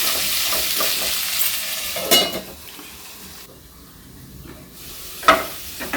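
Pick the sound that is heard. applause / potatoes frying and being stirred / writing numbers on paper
potatoes frying and being stirred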